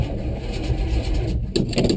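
Car engine with a Holley carburetor and no choke cranking and catching, a loud continuous low rumble close by that surges as it fires, no talking.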